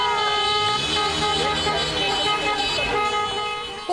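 Car horns honk in a dense, overlapping blare during a street celebration on Avenida Tocantins in central Goiânia, loud and continuous with several tones layered over traffic.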